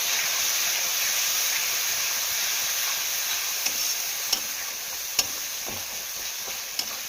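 Tomatoes fry with turmeric and chili powder in a pan, a steady loud sizzle with a few sharp clicks of a utensil stirring and scraping toward the end, no talking.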